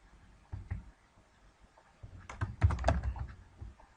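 Keys on a computer keyboard are tapped in a short, irregular burst of clicks, quiet at first and then clustering into a quicker flurry near the end.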